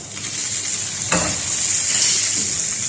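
About half a spoonful of butter sizzles in a frying pan while eggs are cooked for breakfast, giving a steady, close hiss. A brief scrape or stir cuts in partway through, and nobody speaks.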